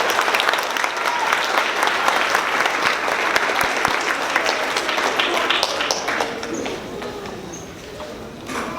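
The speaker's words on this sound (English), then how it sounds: "So let's give them one more round of applause." An audience at a fifth-grade elementary school celebration gives a round of applause for award recipients, a sustained crowd clapping with scattered louder claps, slowly thinning toward the end, with faint voices mixed in.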